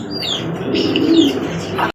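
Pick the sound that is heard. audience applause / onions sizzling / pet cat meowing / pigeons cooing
pigeons cooing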